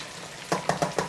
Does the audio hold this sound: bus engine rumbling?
no